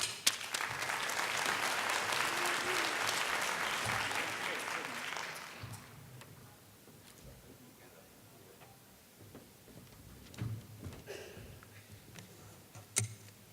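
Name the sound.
audience applause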